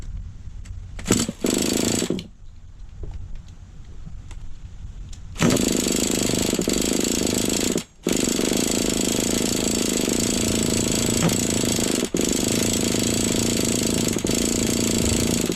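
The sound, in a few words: Savage XL RC truck Force .32 nitro engine running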